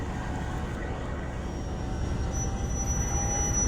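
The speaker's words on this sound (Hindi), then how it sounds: "मूव हो गई ट्रेन।" A train on the Awam Express in Pakistan starts to move, heard from inside an old passenger coach as a steady low rumble and rolling clatter with a faint high wheel squeal, loud and continuous.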